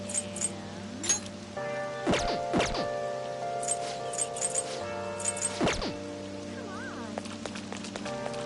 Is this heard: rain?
yes